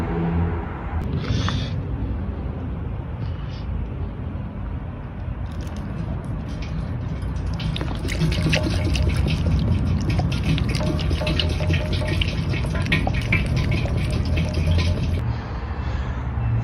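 Liquid pouring into the fuel tank of a Suzuki Bandit 600 motorcycle to soak it, a steady rushing fill that grows brighter and more hollow partway through, continuous and close.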